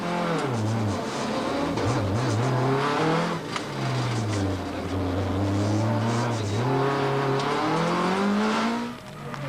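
Subaru rally car in the 2002 Volkswagen Rally, its engine revving and shifting through gears with rising and falling pitch, loud and continuous, with faint commentary beneath.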